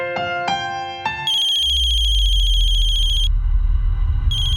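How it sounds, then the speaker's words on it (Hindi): A loud phone ringtone: a few chiming notes, then a steady high electronic trill over a low rumbling tone, loud and close. "मम्मी जी का फोन है।"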